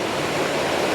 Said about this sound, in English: this small waterfall